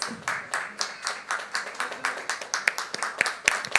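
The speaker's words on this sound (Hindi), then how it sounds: "तालियां जोरदार होनी चाहिए।" An audience claps at a product launch for diabetes medicines, loud rhythmic group clapping with fairly even beats, turning into sharper scattered claps near the end.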